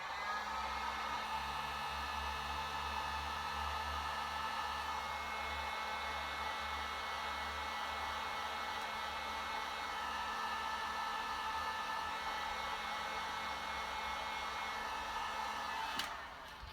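A hair dryer blows steadily on glue on a pouch, a loud, even whirring hiss that lasts close to seventeen seconds and then cuts off with a click.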